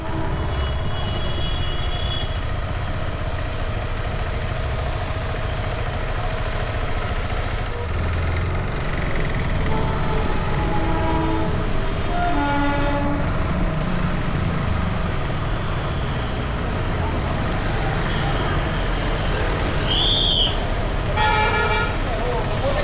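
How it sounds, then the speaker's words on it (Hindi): The Darjeeling toy train rolls along near Ghum with a loud continuous rumble of wheels and engine, traffic noise around it, and a short horn toot near the end; voices talk over it. "ये देखो गाइस, ये चल रही है द टॉय ट्रेन"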